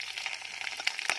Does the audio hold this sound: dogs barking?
no